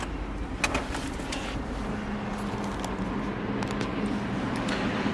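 A Chevrolet S10 pickup's 5.3-litre engine rumbles steadily from inside the cab while driving, with road noise and a few small rattles and clicks.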